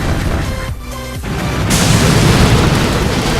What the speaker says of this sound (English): we'll just have the Rainmaker attacking the shock launcher here in the center